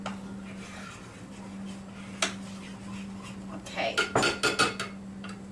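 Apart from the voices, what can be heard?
stirring sourdough starter in a jar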